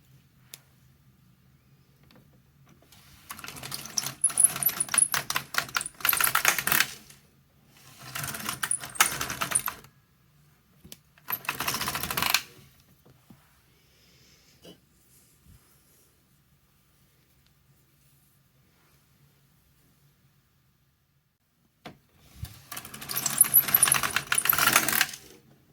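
Domestic knitting machine working rows on a swatch, bursts of rattling, clicking carriage passes lasting a few seconds each, separated by quiet pauses, close and without talk.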